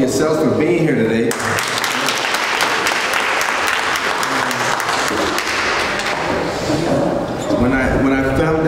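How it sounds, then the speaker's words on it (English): Sustained audience applause fills the room, a dense steady wash of clapping from a large crowd that swells and holds for several seconds, with brief voices at the start and end. "Please give a round of applause for yourselves for being here today."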